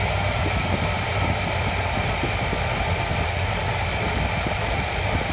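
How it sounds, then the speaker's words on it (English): The engine of a 1979 Pontiac Firebird idles roughly with its EGR valve held open, a loud, steady, close-miked droning rumble with no speech. "the idle stumbles a little bit of hesitation, rough idle"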